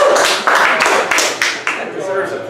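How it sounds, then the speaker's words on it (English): Scattered audience clapping at a Labor Day speech rises in a few loose bursts of hand claps, close and fairly loud, with a voice speaking over it. "that deserves applause"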